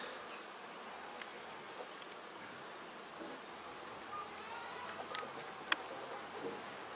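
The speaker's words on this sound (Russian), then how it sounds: "Вот уже пчелки работают." Bees buzz around a swarm trap set outdoors in grass: a steady, even hum of many insects fills the whole stretch at low, constant volume, with a few brief nearby flybys and small clicks.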